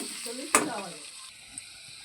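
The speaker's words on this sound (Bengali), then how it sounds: "এখন ভাজবো আলুটা ভালো করে" Potatoes with turmeric and salt hit a hot pan, causing a sudden loud sizzle that quickly settles into a quieter, steady frying hiss.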